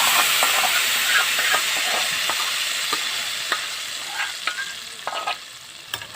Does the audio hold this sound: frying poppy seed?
yes